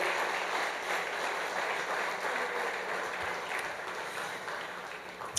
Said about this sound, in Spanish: Alguien debería dar un aplauso al Señor nuestro Dios.